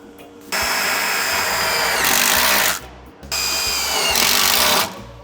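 Power drill driving self-tapping screws into a side step support on a Mercedes Sprinter van, two close, loud whirring bursts of about two seconds each, with the pitch rising as each screw seats, then stopping.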